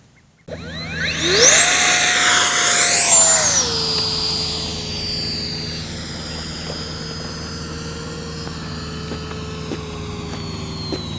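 An E-flite Viper 64mm electric ducted-fan model jet flies past with a loud whining turbine roar that swells, shifts in pitch as it passes, then settles into a steadier distant whine, with no talk.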